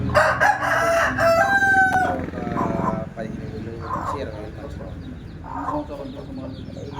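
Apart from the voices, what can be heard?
native country chickens clucking and crowing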